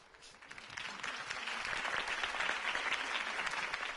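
Crowd applause following a political campaign speech in a Batman video game, a steady wash of clapping that swells in and holds at a fairly loud level throughout.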